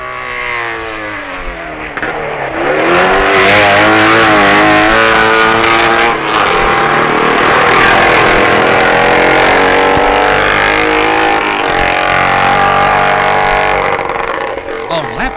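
BSA twin and Norton racing motorcycles at Signpost Corner during the 1965 Isle of Man TT, a loud engine roar rising and falling in pitch as the bikes pass close, sustained for most of the stretch.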